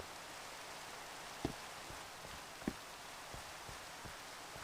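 Steady, soft hiss of rain falling in the Towncraft video game, a continuous even wash with a few faint taps and thuds scattered through it, no voices.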